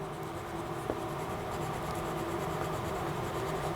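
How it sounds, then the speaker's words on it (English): Colored pencils rubbing steadily across paper, a continuous scratchy shading texture, close and fairly quiet, with no voices. "Colored pencils are a lot of fun to play with."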